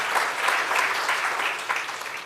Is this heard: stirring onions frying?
no